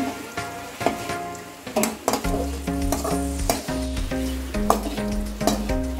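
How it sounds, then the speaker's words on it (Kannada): Eggs fry in a pan as part of an egg biryani. A continuous close sizzle is broken by intermittent scraping and light clinks from stirring. "ಮೊಟ್ಟೆಯನ್ನು ಸ್ವಲ್ಪ ಫ್ರೈ ಮಾಡಬೇಕು."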